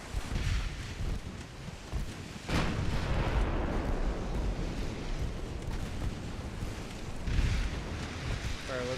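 Battleship guns fire in the naval game Ultimate Admiral Dreadnoughts, with deep booming blasts and a long rumbling roar of sea and gunfire between them. Heavy shots land around the three- and seven-second marks.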